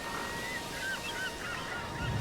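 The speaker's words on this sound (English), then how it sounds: "We've got the birds, of course, and the little waves." Goose-like birds honk in a few short calls over a soft, breezy wash of small waves in a deserted seaside scene, quiet and distant.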